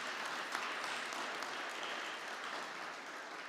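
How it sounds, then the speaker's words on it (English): Conference audience applauding in a hall, a steady wash of clapping at moderate distance that holds evenly for a few seconds without talk. "let's give them a warm round of applause"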